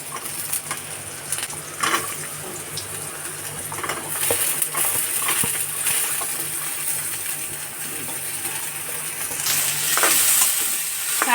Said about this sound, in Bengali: তো পেঁয়াজটাকে এবার আমরা নরম করে ভেজে নেব।